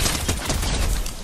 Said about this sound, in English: There's a lot of gunshots from somewhere.